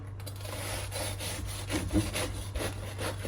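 A knife saws back and forth through crusty focaccia in steady, rasping strokes, close up and fairly quiet over a low background hum.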